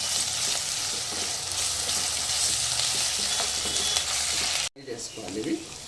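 Ginger, garlic and green chillies fry in oil in a pan with a loud, steady sizzle and hiss close by, which cuts off abruptly near the end, leaving quieter kitchen clatter.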